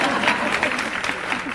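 Conference audience clapping in a dense, fairly loud burst of applause with a few voices mixed in.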